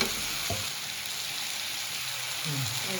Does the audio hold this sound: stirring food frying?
yes